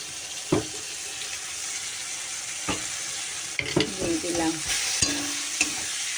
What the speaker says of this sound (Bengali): এই যে বাটা মশলা এটা আমি একটু দিয়ে দেবো